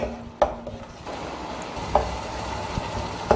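Masala with bitter gourd stirred and sautéed in a pan, a soft steady sizzle with a few sharp scraping clicks of a spoon against the pan, close and alone without voices.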